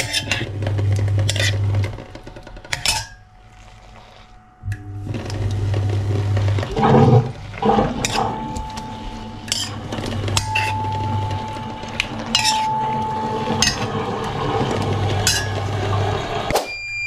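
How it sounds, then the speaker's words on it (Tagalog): Pork for adobo stirred in a pan, with metal utensils scraping and clinking against the cookware over a steady sizzling hiss, continuing close and fairly loud with no talk. "Halo-haluin natin hanggang maging brown na yung ating pork."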